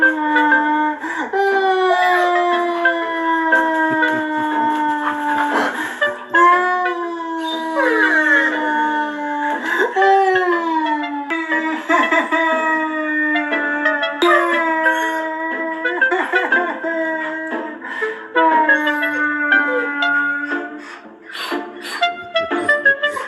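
A dog howls in long, wavering tones broken by whimpers and yips, loud and close, continuing steadily with brief pauses throughout.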